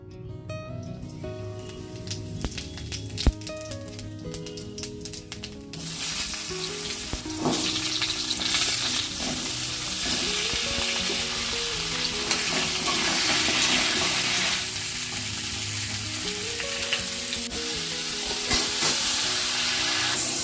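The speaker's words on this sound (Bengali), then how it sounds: "মাছের পিসটাকেও দিয়ে দেব মাছ ভাজাটা হতে হতে" Fish pieces fry in hot oil with a dense, steady sizzle that swells after the first few seconds and holds loud throughout, while clattering utensils and background music-like tones sit underneath.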